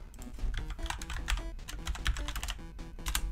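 Rapid, uneven clatter of computer keyboard typing during a Roblox game stream, steady keystrokes close to the mic with no talking.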